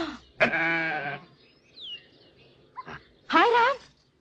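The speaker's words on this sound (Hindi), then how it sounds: "ये किसकी बकरी उठा कर ले आए?" A goat bleats twice in a home scene, each cry long and wavering with strong harmonics, loud and close, separated by a pause filled with a brief squeak and faint background noise.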